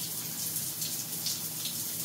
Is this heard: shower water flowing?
yes